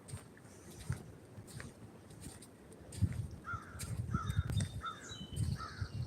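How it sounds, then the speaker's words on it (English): Crows caw outdoors in a series of short, harsh calls, moderately close, over a background of footsteps and ambient noise with no talk. "Got some kind of bird."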